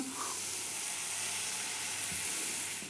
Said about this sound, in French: On voit bien que les oignons sont en train de bouillir légèrement